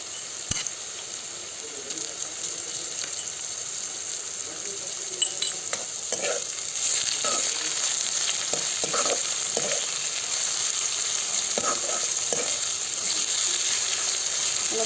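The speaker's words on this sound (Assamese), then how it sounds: "এয়া পিঁয়াজ ফ্ৰাই হৈ আছে।" Onions frying with ginger garlic paste in a pan make a loud, steady sizzle with scattered crackles and stirring scrapes, continuous and close throughout with no talking.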